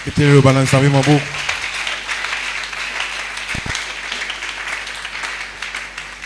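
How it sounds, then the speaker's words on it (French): Congregation in a church breaking into steady applause after a brief sung or spoken phrase, the clapping sustained and fairly even, with a couple of louder thumps partway through. "Acclamez la parole de Dieu."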